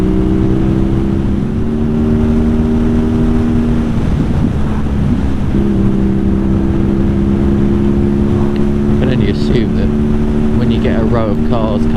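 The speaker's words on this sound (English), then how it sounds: "Row of cars coming, they've just got off the ferry." Several cars roll past one after another on a quiet rural road just after leaving a ferry, heard from a motorcycle with steady engine drone and wind throughout; a vehicle surge builds near the end.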